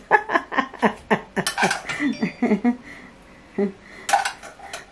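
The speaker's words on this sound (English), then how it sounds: "Hubby is scratching the saucepan." A metal spoon scrapes and clinks against a saucepan in a home kitchen while a roast beef dinner with carrots is served up, giving a rapid run of scratchy strokes and a few later knocks, with a voice talking nearby.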